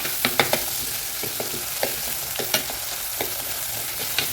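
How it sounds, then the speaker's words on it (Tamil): Turmeric deep-frying in hot oil for an egg curry (muttai kulambu) gives a steady soft sizzle, broken by sharp scattered clicks of a spoon stirring the pan. "நல்லா டீப்பாக ஃப்ரை ஆகட்டும்"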